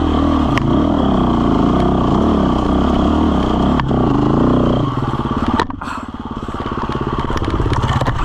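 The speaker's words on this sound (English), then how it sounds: "I found it harder to control the bike uphill." A new KTM 350 dirt bike engine rides on a hard Australian trail with a loud, close, steady four-stroke drone. Clattering knocks punctuate it before the pitch drops and the engine labors and revs back up.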